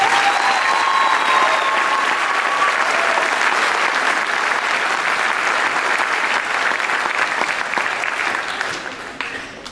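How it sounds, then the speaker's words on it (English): An audience applauds a high school symphonic band at a spring concert. The clapping is loud and sustained, with a faint whistle early on, and it tapers off over the final seconds. "can we hear a round of applause for them?"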